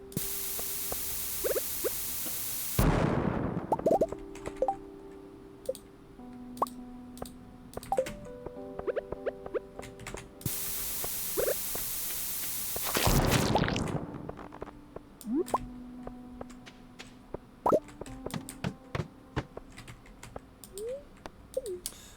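Bombs go off in the Stardew Valley mines, two long bursts of harsh, noisy blast a few seconds each, surrounded by game clicks, chimes and small pickup sounds.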